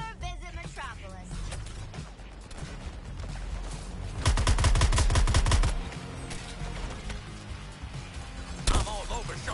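Gunfire in the Suicide Squad video game, a loud rapid burst of automatic shots in the middle with scattered single shots around it, set among game sound effects and character voices.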